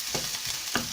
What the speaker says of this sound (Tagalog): gisa lang ng kaunti, magiging brown a little